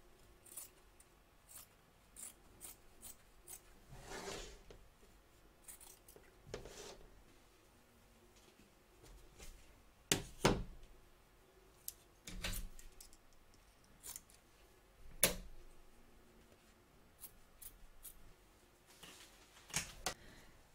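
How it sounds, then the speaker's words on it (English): Scissors make scattered sharp close snips while trimming excess fabric from an embroidery hoop, quiet cuts spaced irregularly with a few louder clipped strokes. "Trim away the excess fabric from both back and front of your hoop from around the hand."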